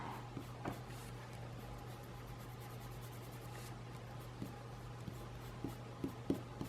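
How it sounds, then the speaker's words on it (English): An eraser rubs out pencil lines on paper, a faint, continuous scratchy rubbing with small irregular strokes over a steady low hum. "so now I'm going to just erase all that pencil."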